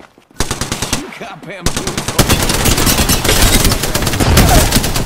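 Loud, rapid automatic gunfire in the shooter game Apex Legends, with bursts of shots that become a dense, sustained barrage while a player speaks briefly over them.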